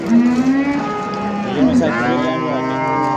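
A cow lets out a long, loud mooing call nearby at a livestock market, rising and falling in pitch, with faint outdoor background noise.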